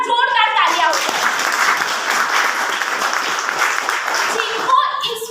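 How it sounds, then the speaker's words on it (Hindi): A hotel presentation audience bursts into loud, full applause for a company founder, a thick sustained roar of clapping with voices starting and trailing off around its edges. "उनके लिए एक बार जोरदार तालियां हो जाए"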